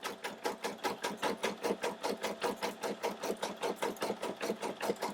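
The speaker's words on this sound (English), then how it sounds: "I'm going to go ahead and let this stitch out" A Brother SE1900 embroidery machine stitches a love bear design, its needle running in a fast, steady mechanical chatter of evenly spaced beats, close and continuous with no voices.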